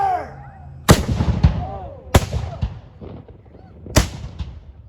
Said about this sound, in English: I'm currently looking at the footage of the cannon